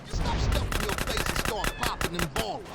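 Rapid gunfire in GTA San Andreas comes in a dense run of sharp, evenly spaced shots with crashes and game effects around them, aimed at an armored APC during a mission.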